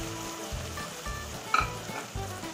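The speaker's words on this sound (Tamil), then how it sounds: "இது ஆட் பண்ணி நல்லா ரொம்ப நேரம் இந்த பச்சை ஸ்மெல் போகிற வரைக்கும் நீங்கள் வதக்கணும்" Green mint-coriander paste being sautéed in a pan over softened tomatoes for mutton biryani: a faint steady sizzle with rhythmic spoon strokes and a brief clink of metal.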